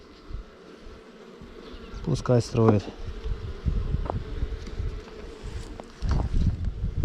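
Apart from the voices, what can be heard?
honey bees buzzing at an open hive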